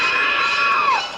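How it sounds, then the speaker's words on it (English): An audience at a Hitchcock horror screening lets out a loud, sustained crowd scream, dense and continuous throughout, trailing off slightly at the end. "to hear the audience scream"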